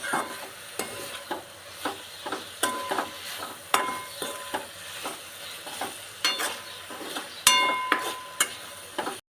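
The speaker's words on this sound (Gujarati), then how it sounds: "હવે આને હલાવી નાખીએ એટલે આ બધો મસાલો અંદર શાકમાં ભળી જાય" A spoon stirs spices into pointed gourd (parval) sabzi in a pan, giving repeated clinking scrapes at an irregular rhythm over a soft, steady sizzle, close and moderately quiet with no talking.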